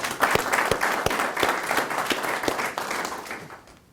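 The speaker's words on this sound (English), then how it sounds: "Gaston, you deserve to give yourselves a round of applause." An audience at a Gaston County, North Carolina, work-ready community announcement applauds, with many hands clapping in a loose rhythm that holds steady and then tapers off at the end.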